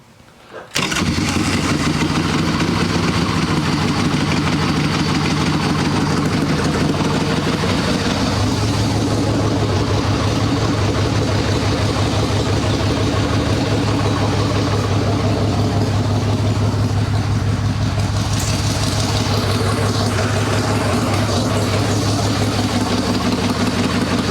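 An Evo Sportster-based chopper motorcycle engine fires up after extra choke and runs steadily, a loud continuous idle with a lumpy rhythm that settles and deepens slightly partway through, close by with no talking.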